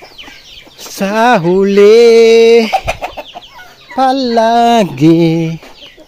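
Pet chickens cluck in a rural backyard, with a couple of long, loud, drawn-out calls rising and falling alongside brief softer clucks; a person speaks a few words briefly.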